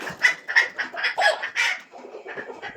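Several roosters cluck in quick, loud bursts, with rhythmic repeated calls close by and a brief crowing note, no voices present.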